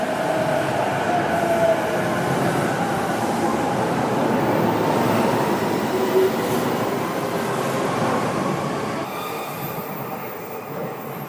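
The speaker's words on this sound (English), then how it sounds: "Now there's gonna be a train coming from the right side." A commuter train pulls into narrow Shinbashi Station in Tokyo, its steady rumble and rail noise filling the platform with faint wheel squeal, loud and continuous before easing slightly at the end.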